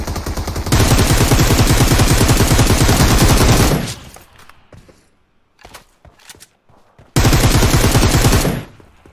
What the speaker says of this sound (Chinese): 这边几把枪声。